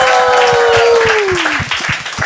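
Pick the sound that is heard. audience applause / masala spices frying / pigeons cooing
audience applause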